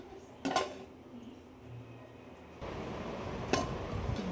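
A pot of freshly cooked vegetable pulao comes off a home stove and is set down, giving two sharp metallic clanks of cookware, one early and one near the end, with quieter shuffling between.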